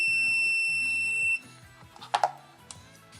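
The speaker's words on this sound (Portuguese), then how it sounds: "O único problema é que ele fica com esse bip chato." An ANENG 620A digital multimeter gives a loud, steady electronic beep lasting over a second, then stops abruptly, followed by faint clicks and handling noises.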